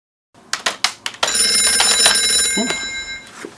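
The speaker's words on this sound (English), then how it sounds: "Yo, Banana, call Max" A banana-shaped mobile phone rings after a voice command to call, a few sharp clicks or taps leading into a steady bright electronic ring tone with layered high harmonics, close and fairly loud.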